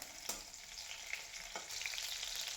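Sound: green chillies sizzling in hot oil

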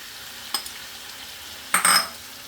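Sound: potatoes added to a pan and stirred, frying

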